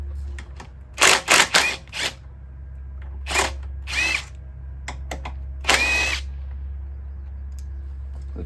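A power tool undoing bolts on a 1978 Honda CB400 barn-find motorcycle makes several short bursts, a quick cluster of three then a few separate runs, over a steady low hum with no talking.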